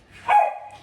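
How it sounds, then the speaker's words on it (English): A single close, loud dog bark rings out in an indoor room, one sharp yap with a brief tail and no other sound around it. "shh, that's the dog"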